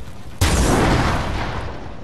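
A video game explosion goes off abruptly after a quiet moment, one sharp loud blast that settles into a broad, slowly fading rumble.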